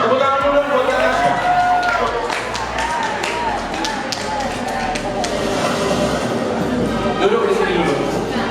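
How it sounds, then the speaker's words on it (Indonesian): An indoor audience at a New Year's literacy event in a hotel claps steadily throughout, a dense patter of applause mixed with crowd murmur and some talk. "Tepuk tangan dulu buat Kak Tasya."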